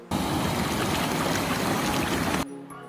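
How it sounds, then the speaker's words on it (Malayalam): A stream babbles and splashes in a dense, continuous rush of water noise that stops abruptly near the end, leaving only faint tones. "അരുവിയുടെ കളകളാരവം"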